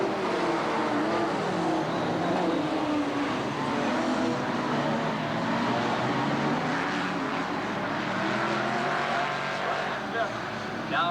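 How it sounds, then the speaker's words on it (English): Late model stock cars roar around an oval track in a 1990 race, a continuous loud engine drone from the pack, with an announcer talking over it. "Now they're on the gas once again, and we're back to green, but Schill again taking the top spot."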